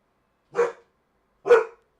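A dog gives two separate barks about a second apart, loud and near, with silence around them.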